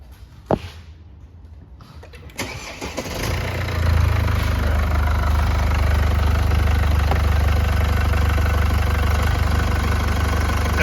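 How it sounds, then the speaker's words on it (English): Mercedes C-Class diesel with a DPF and AdBlue issue: a quiet moment with a click, then the engine cranks and fires, settling into a loud, steady, low idle rumble that continues to the end. "I'm just going to get the vehicle started"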